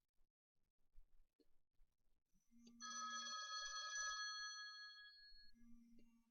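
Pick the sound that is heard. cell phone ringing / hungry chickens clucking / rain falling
cell phone ringing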